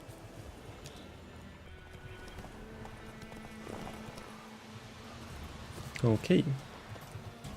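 Horse hooves clip-clop in a quick rhythm in The Witcher 3 beneath a steady background, with a brief voice speaking near the end.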